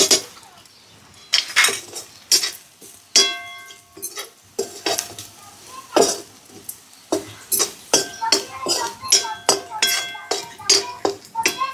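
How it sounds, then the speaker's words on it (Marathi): Spoon clinking repeatedly against a pan while spices are added to browned onions in a home kitchen, a series of sharp metallic taps and scrapes with short pauses between them. "तर आता याच्यामध्ये मी मसाले टाकून घेते."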